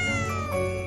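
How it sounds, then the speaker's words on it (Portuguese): A black cat meows in the video game The Baby in Yellow, one drawn-out, loud, clear meow, close and alone. "O que, que o gato preto tá fazendo aqui, velho?"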